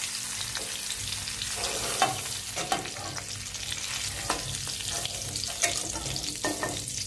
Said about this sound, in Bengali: পনিরগুলো আমার ভাজা হয়ে গেছে, আমি হালকা ভেজে নিয়েছি।